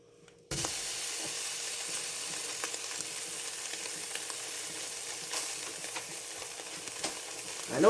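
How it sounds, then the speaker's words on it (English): TennPride sausage sizzles steadily in a skillet, a dense, even hiss that starts abruptly after a brief quiet moment and holds close and loud, with small crackles and pops scattered throughout. "And now I'm putting my sausage in."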